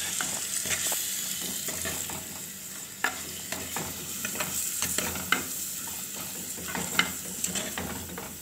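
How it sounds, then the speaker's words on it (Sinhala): Pork stirs and fries in a pan, a continuous sizzle broken by repeated sharp scrapes and knocks of the utensil at an uneven pace, close and fairly loud. "දැන් ටිකක් බැදෙන්න අරිනවා."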